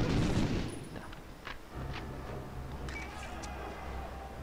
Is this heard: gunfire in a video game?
yes